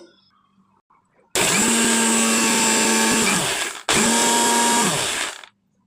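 A kitchen mixer grinder dry-grinds poppy seeds without water in two loud whirring bursts, the motor roaring up sharply, running about two and a half seconds, cutting briefly, then running again before stopping into quiet.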